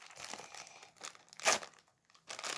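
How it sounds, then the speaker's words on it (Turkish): Packages being torn open, with crinkly plastic rips and rustles coming in short uneven bursts, the loudest tear near the middle, heard close with no talking. "Şimdi paketlerin hepsini açalım."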